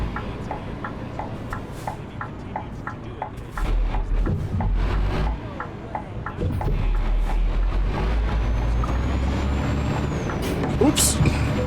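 Air brakes on a heavy truck in a truck-driving game, giving sharp hisses and clunks over a low, rumbling diesel drone as someone talks over it.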